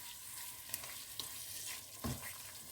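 Chicken sizzles and fries in a pan for a desi-style chicken qorma, a steady crackling hiss broken by a few light clicks from stirring.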